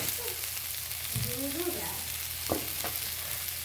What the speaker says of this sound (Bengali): এই জন্য এই ভাজাটা করছি